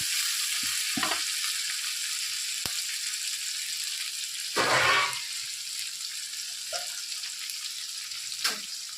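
Steady sizzle of onions frying in a pan fills the clip, with occasional stirring scrapes and clinks rising briefly above the hiss.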